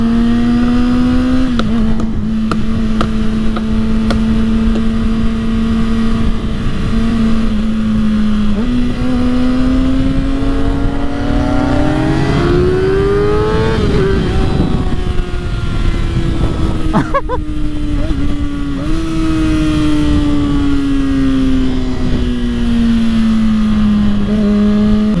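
A 2022 Kawasaki ZX6R 636 sport bike is ridden through town, its engine loud and close with a sustained drone that climbs and drops as it revs, pops on deceleration, and wind rush behind.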